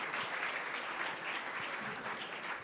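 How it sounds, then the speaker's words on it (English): A crowd claps steadily, a dense wash of applause that holds at an even level the whole time, heard from a distance. "applause are welcome"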